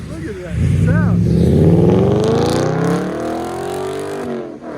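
A German V8 car engine revs hard and close, its rising harmonic roar sweeping upward and holding loud before easing off, with a brief voice near the start.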